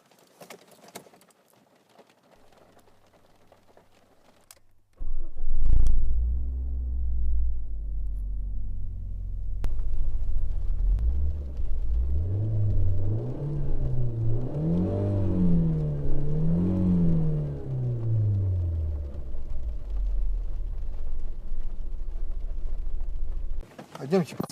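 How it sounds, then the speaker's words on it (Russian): An Alfa Romeo 156, at 100,000 km, cranks and fires up after a quiet moment, then runs at a steady idle with a few revs rising and falling before settling. "Сейчас заведем двигатель."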